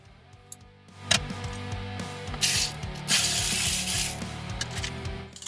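A Ryobi P344 drill works at the 14 mm caliper bracket bolts on a Toyota Prius, giving ratcheting, grinding mechanical bursts that start and stop up close, with clanks between.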